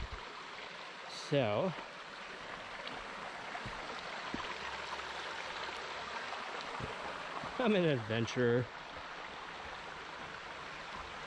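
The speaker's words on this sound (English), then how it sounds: "going down this little creek area is it leads to a louder sound, which is even more therapeutic and ASMR" A small creek near the Cedar Falls Campground on the way to BX Falls flows with a steady, soft rushing hiss throughout, while someone speaks briefly over it twice.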